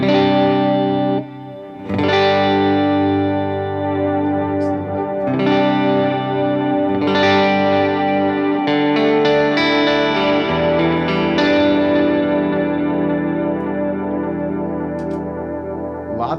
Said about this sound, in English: I love the way the delay fits in.